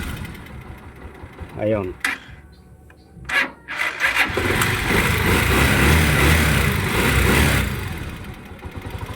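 Motorcycle engine idling after the minor idle screw is adjusted, a steady rough rumble that rises and holds after a few brief revs and clanks, with someone talking briefly over it.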